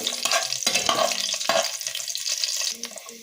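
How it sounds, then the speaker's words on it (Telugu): Cashews fried in hot ghee, stirred with a spoon in a pan while making a jaggery carrot halwa, give a steady close-up sizzle broken by scraping stirs that come in uneven bursts. "ఇప్పుడు జీడిపప్పు వేయించుకుందాం"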